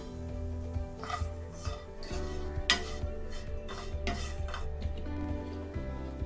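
Bread slice pieces sautéed in a small spoonful of oil in a pan: a spatula clinks and scrapes across the pan in scattered taps over a steady low background hum, close and moderately loud.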